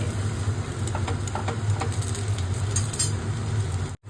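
Potatoes frying in hot oil in a home kitchen pan, a steady close sizzle with faint crackles throughout and no talk, cutting out briefly near the end.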